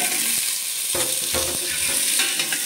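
Ketchup, shredded cabbage and potatoes go into a hot pan with onion and garlic for a fried fish soup, giving a steady close sizzle and frying hiss broken by stirring and scraping, with no talking.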